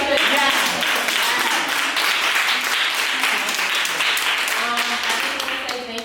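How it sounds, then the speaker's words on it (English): A group at a twerk dance workshop claps together, dense and steady over several seconds, with voices chattering through the applause. "Okay, can we just clap it up?"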